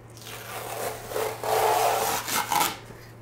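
Tape being peeled off the body of a Land Rover Discovery during a gullwing window installation, a close, dry ripping rasp in several uneven pulls that swell and fade over a few seconds, with a steady low hum underneath.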